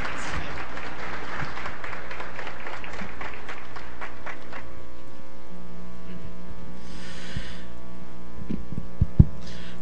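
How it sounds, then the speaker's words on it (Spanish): Applause from a conference audience at a national geography and statistics convention, fading over the first few seconds over a steady low electrical hum, then near silence. "Un aplauso,"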